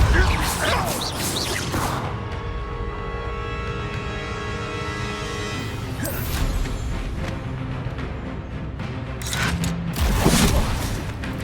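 The Repulso spell in the video game Hogwarts Legacy blasts objects away in several loud, crashing whooshes: one burst at the start, another midway and a final strong impact near the end, over game background noise.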